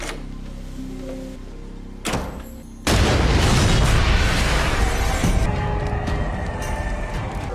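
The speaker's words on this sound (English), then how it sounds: "responding to the explosion at the Norris place" In a Criminal Minds TV episode, a sudden deep explosion boom erupts and becomes a loud, sustained roar with rumbling debris, following a quieter stretch with a brief thump.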